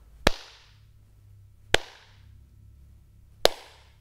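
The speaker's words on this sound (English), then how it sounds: "You'll probably hear that when I clap, the sound doesn't stop as soon as my hands touch." Three single hand claps spaced about a second and a half apart in a brick-walled room, each sharp crack trailing into a short audible ring of reflections, fairly quiet with no talking.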